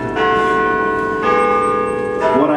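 A church bell tolls three times, each strike ringing out long and loud with a sustained, overlapping hum at an outdoor event in Ottawa.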